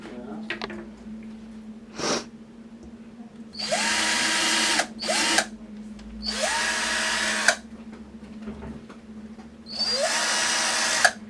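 Electric drill boring holes through the inside of a plastic bioreactor lid: three sustained whining bursts of several seconds each, plus a brief one, close and loud, with a low steady hum between them and a short voice sound early on.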